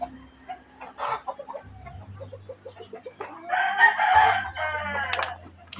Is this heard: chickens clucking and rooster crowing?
yes